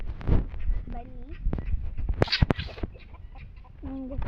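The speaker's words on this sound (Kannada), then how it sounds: "ಇಲ್ಲಿ ಕೋಳಿಗಳಿದ್ದಾವೆ" Chickens in a home garden give a few short clucks near the start and end, mixed with people talking and close handling noises.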